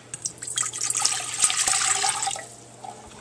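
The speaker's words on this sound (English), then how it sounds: "we're going to take the 2 cups of water, put it in the pan" Two cups of water pour into a cooking pan, a bright continuous splashing stream that swells and fades over a few seconds, close up and alone, with no talking.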